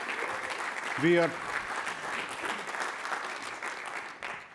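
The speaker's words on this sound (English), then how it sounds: "A round of applause for our customers." A large audience at a corporate investor day event applauds customers with steady, dense clapping throughout, while a speaker's voice cuts in briefly over it.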